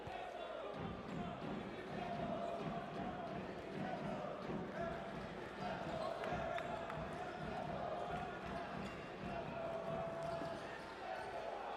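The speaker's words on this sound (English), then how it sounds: "They're dribbling passively." A basketball is dribbled repeatedly on a hardwood court during an Africa club championship game between Urunani and Kriol Star, the bounces thumping under a loud, constant arena crowd and a commentator's talk.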